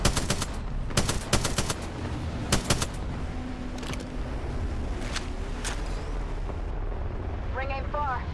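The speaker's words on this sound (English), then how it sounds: "Shooting." Gunfire in the video game Apex Legends comes as sharp rapid bursts in the first few seconds, then scattered shots over steady game ambience, with a player talking.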